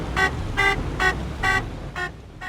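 A medium buggy horn in the game Astroneer honks five times in a steady rhythm, each a short bright toot over a faint background hum.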